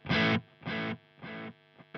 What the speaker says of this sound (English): lo-fi delay,